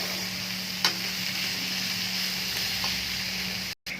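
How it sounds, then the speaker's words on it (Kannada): Cabbage and capsicum fry in a pan for pork fried rice, giving a steady close sizzle with a few light stirring scrapes and a brief break near the end. "ಇವಾಗ ಎಲ್ಲನೂ ಒಂದು ಸ್ವಲ್ಪ ಫ್ರೈ ಆಗಲಿ"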